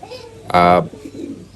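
A racing pigeon gives one short, close coo that stands out against quiet surroundings, with faint softer sounds before and after it.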